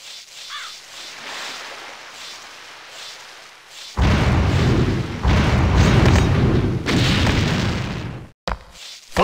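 In Anno 1602, a ship's cannon broadside erupts after a quiet stretch with a few distant caws, becoming a loud, dense roar of overlapping blasts that lasts about four seconds before cutting off abruptly.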